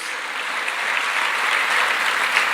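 A church congregation applauds loudly and steadily, a dense, sustained wash of clapping with no talking over it.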